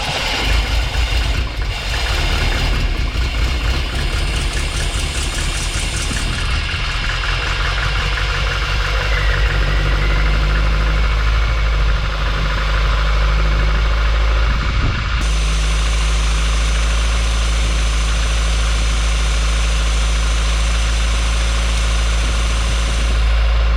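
A stone-cold Triumph TR7 engine cranks, catches and settles into a steady, loud idle, its low rumble running continuously close to the microphone with a shift in tone partway through.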